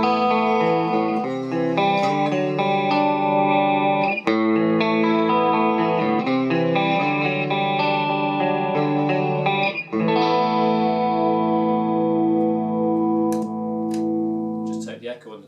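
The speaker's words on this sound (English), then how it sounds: "a beautiful clean sound, just what you expect from a hand-wired JTM45 clone" Clean electric guitar played through a hand-wired Flynn Amps JTM45 clone amplifier, with both channels set about a quarter up; sustained chords and melodic notes ring out loud and steady for the whole stretch with no talking.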